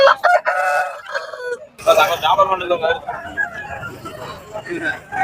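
A rooster crows amid the bustle of a rooster market in Kunnathur, its call rising briefly over close, continuous voices of people talking nearby.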